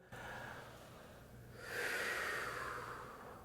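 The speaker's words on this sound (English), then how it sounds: "breathe in deeply to your diaphragm" Students in a high school ensemble class draw a long, deep breath together, a soft airy inhale that swells after a quieter stretch and then slowly fades.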